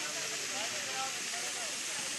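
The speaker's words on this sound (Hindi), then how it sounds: "वाटरफॉल पहाड़ों से पानी नीचे झरना गिर रहा है" Water cascading down steep rocks from high on a mountainside near Rishikesh, Uttarakhand, a steady broad hiss that fills the clip without a break, with no talk over it.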